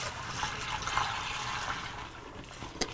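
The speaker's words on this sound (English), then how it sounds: "pour the sanitizer back into the thing here because we're going to need it" Keg sanitizer liquid poured back into a container while sanitizing a beer keg, a steady splashing, trickling pour lasting a few seconds, close and moderately loud, ending with a small clink.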